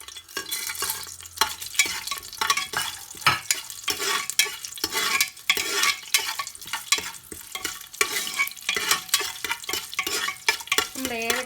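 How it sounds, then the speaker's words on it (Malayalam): Whole spices crackle and sizzle in hot oil for a Kerala-style mutton curry, with frequent scraping and clinking stirring strokes in the pan close by. "അപ്പോൾ നമ്മുടെ എണ്ണ ഒന്ന് ചൂടായിട്ടുണ്ട്. ഇനി നമുക്ക് നമ്മുടെ സ്പൈസസ് ഇട്ട് കൊടുക്കാം."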